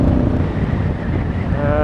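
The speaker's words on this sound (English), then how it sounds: "It's very windy, doing 70 mile an hour and it feels like I'm doing 100." Steady, heavy wind roar buffets the microphone while riding a Honda Africa Twin DCT motorcycle at 70 mph, a constant rushing noise with no pauses.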